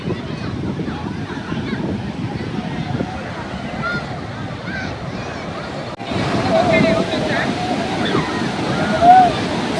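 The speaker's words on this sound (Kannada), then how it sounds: "ಅಲೆಗಳು ಕಡಿಮೆ ಇಲ್ಲ" Rough sea waves roll onto Mahabalipuram beach in the evening, a continuous wash of surf buffeted by wind noise, swelling louder midway, with faint indistinct voices in the background.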